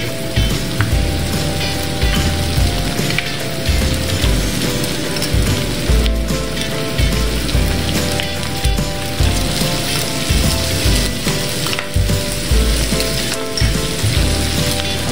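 Minced meat frying in a pan for dinuguan, a dense continuous sizzle and crackle with clinking mixed in, steady and close throughout.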